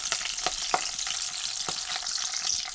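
Peanuts, chana dal, mustard seeds and cumin sizzle in hot oil for lemon pulihora, a steady close crackle with sharp pops and a few stirring clicks throughout.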